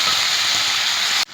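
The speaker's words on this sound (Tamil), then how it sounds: "இந்த 2 பெரிய வெங்காயம் நறுக்கி வச்சதை சேர்த்துட்டு இது நல்லா வதக்கிக்கிறேன்." Onions sizzle while sautéing in groundnut oil in a pan, giving a steady, bright, close hiss that stops abruptly at the very end.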